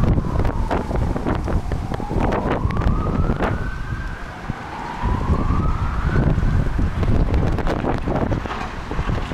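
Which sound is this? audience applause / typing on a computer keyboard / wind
wind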